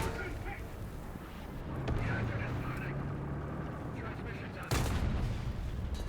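Airstrike explosions in a video game land as heavy booming blasts over a steady rumbling din, with a louder burst near the end and voices talking throughout.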